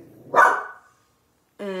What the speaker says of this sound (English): my dogs are starting to bark